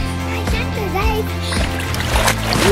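A splash into a backyard pool, as a child dives or belly flops, with water slapping and churning close by under children's voices.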